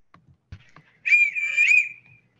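A single sustained whistle tone, bright and wavering slightly, lasting about a second after a few soft knocks and clicks.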